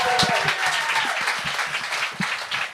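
A studio audience at a comedy show claps and applauds loudly and continuously, a dense close wash of hands with a few cheers rising through it.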